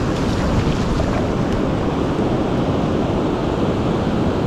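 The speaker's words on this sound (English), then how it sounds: "we're at a public beach right now" Constant roar of surf on a public beach at La Libertad, El Salvador, loud and unbroken with heavy wind buffeting the microphone and no voices.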